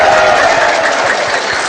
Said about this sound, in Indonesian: Tepuk tangannya dong relawannya.